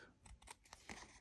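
Scissors cut a paper tag for a junk journal, several quick, close crisp snips in an uneven rhythm, quiet and with no talking.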